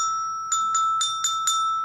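Step bells struck one at a time in a children's music lesson to give a pitch for matching, five bright ringing tones in quick even succession, each with a clear sustained ring, close and alone with no voices.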